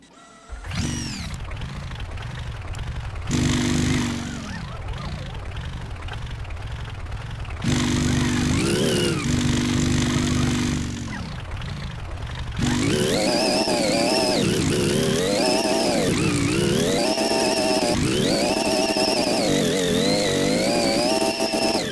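Tank engine on tracked vehicle in the game Gearblocks, a steady harmonic motor drone whose pitch rises and dips repeatedly, growing louder and busier in the second half as it revs and turns.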